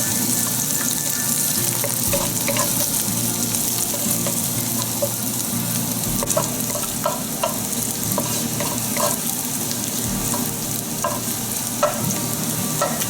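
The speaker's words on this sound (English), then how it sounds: "Just a quick saute." Garlic sautés in a hot wok for a Thai duck and sesame stir fry, a continuous crackling sizzle broken by frequent metallic scrapes and clinks of stirring, close and fairly loud.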